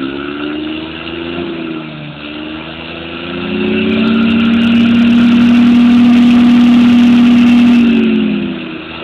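Linhai Joker 50cc quad engine in snow, loud and close, buzzing steadily before rising into a sustained high rev that holds for several seconds and then drops back.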